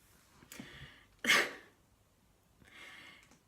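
A single sharp sneeze-like burst stands out in a quiet room, with softer breathy sounds before and after.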